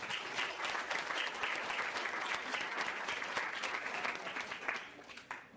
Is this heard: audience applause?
yes